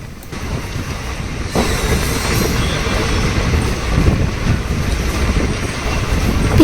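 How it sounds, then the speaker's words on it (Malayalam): A moving train bound for Palani rumbles steadily from inside during rain, low and continuous, growing slightly louder after a moment, with a rushing wash of noise over it. "മഴയത്തുള്ള ട്രെയിൻ യാത്രയുടെ ഫീലും അനുഭവിച്ച് ഞങ്ങളിങ്ങനെ പോവുകയാണ്"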